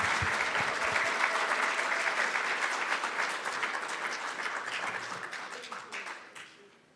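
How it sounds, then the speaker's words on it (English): An audience at a formal anniversary event gives a round of applause, producing dense, loud clapping that stays strong for several seconds, then gradually thins out and fades toward the end. "Can we give her another round of applause, please?"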